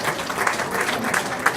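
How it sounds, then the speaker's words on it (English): Audience applause at a banquet for performer Mr. Pessoa, a dense steady wash of many hands clapping throughout, moderately loud with no voices on top. "So give a round of applause to Mr."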